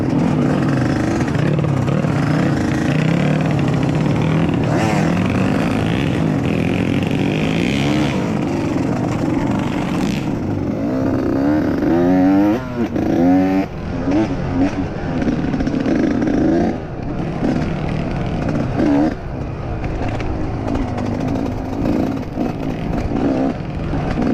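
A trail motorcycle climbing a steep uphill track sounds loud and close, its engine revving hard and rising and falling through throttle bursts over a long stretch, with rough clattering from the terrain.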